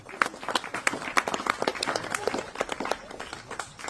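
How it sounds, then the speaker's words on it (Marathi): Live audience applauding at a hypnosis stage show, a dense, steady patter of many hands clapping close by, continuing throughout with scattered louder claps and faint crowd noise. "जोरदार टाळ्या झाल्या पाहिजेत"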